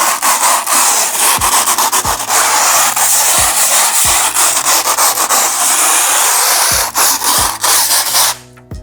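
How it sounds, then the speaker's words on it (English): Old paint being scraped off a house wall at a building site in Ghana, close and loud, with a continuous rasping scrape and several sharp knocks as the scraper strikes the surface, no talk. "Now I'm doing scraping."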